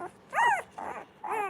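Golden retriever puppies, about 12 days old, whine and whimper in three short, high, wavering bursts with brief pauses between, close and fairly soft.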